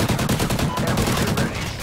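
Rapid automatic gunfire in the video game Call of Duty Ghosts, Cranked mode; dense, continuous bursts of shots fill the whole moment, loud and close.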